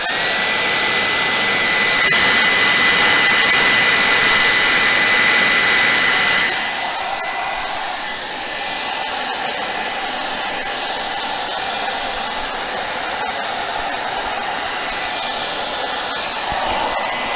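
A hair dryer or air blower pushes acrylic paint across a Dutch pour in a steady, loud, close roar. Partway through, the roar drops to a lower, softer setting and then holds.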